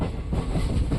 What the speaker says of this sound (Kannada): ವಾಯಲ್ಪಾಡು ರೈಲ್ವೆ ಸ್ಟೇಷನ್ಗೆ ಎಂಟ್ರಿ ಆಗ್ತಿದೆ